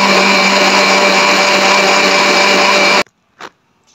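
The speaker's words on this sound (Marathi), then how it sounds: "आम्ही हे 4 किलो तांदूळ असे मिक्सरमधून काढून घेणार आहोत" A mixer grinder whirs loudly and steadily as it grinds four kilos of rice, soaked for two days, into a wet paste. The close, continuous roar runs for about three seconds, then cuts off abruptly, leaving a brief faint knock.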